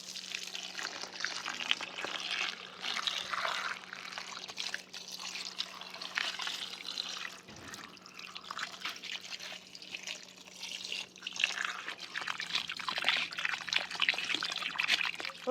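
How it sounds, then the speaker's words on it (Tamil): Freshly harvested beetroot and garden vegetables being washed in water, giving a continuous splashing and trickling wash with small bursts of handling, fairly close and without speech. "இன்றைக்கி பீட்ரூட்டும் அஞ்சு வச்சுருக்கேன் எல்லாம் கழுவி எடுப்போம்"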